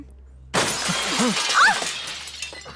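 Glass shatters in a sudden loud crash after a moment of quiet, with a bright spray of breaking shards and tinkling pieces settling over the next two seconds, in a tense drama scene.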